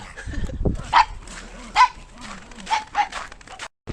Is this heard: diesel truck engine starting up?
no